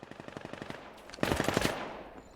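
Rapid automatic gunfire in the tactical shooter Vail, a quick regular burst of shots followed by a louder, denser volley, then fading out, with no voices.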